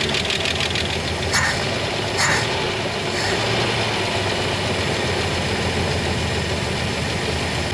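An old Jeep engine runs steadily and loudly up close, a constant rough drone with a couple of faint metallic ticks early on and no voices over it.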